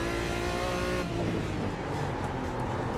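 Corvette engine revving loudly in a racing video game, a steady harmonic whine held near and continuous, shifting into a rougher, denser roar partway through with no talking.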